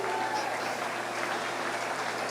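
An audience at a 4-H meat goat show claps for the champion painted doe. The applause is steady and dense for a couple of seconds, and there is no speech over it.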